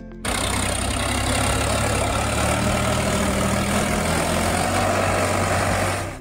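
A tractor engine idles loud and close with a steady, deep rumble that carries on unchanged for about six seconds outdoors in a field.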